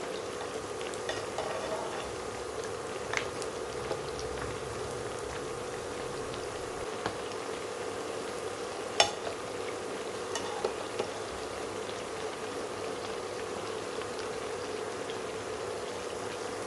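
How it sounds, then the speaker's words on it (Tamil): Pitha sweet dough frying in oil over a low-medium flame, giving a soft, steady sizzle and crackle with occasional small pops, close and fairly quiet. "மொறுமொறுப்பு வேணுங்கிறதுக்காக தான் நம்ம லோ டு மீடியமில் வச்சு பொரிக்கிறோம்"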